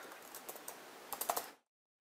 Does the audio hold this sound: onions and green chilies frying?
no